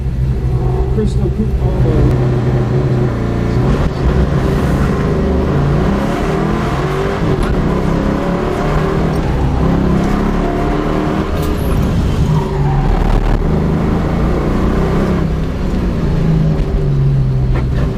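A loud SN95 Ford Mustang race car engine roars and revs continuously up close on an autocross course, pitch climbing and dropping through gear changes, with a voice talking over it.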